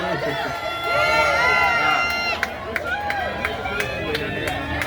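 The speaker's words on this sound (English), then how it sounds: "Man, you really know how to pull out a crowd." A large crowd cheers and applauds loudly at Brandy's Hollywood Walk of Fame star ceremony, a sustained roar with scattered whistles and sharp claps, swelling early and then holding steady.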